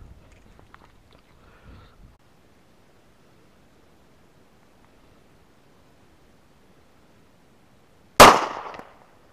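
A Glock 19 pistol fires a single sharp, loud shot near the end after a long stretch of near silence, with a quick decaying tail.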